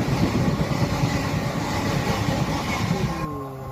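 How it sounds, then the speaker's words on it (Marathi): A passenger train, the Pandharpur Express on the Pandharpur to Parli Vaijnath line, runs fast on the rails with a loud, steady rumble and rattle throughout, close by and without voices. "इथून पुढे आमची ट्रेन जबरदस्त स्पीडने धावू लागते।"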